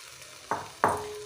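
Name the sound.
stirring boiled shell macaroni in a pan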